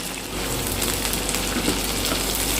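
Chopped beans and carrots fry in a pan for labra, a loud, dense, steady sizzle with faint stirring crackles running throughout.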